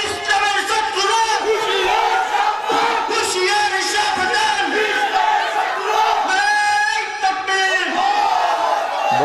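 A large religious gathering answers a takbir call, the crowd roaring Allahu Akbar in loud, sustained unison chanting that swells and repeats across the whole stretch, dense and near.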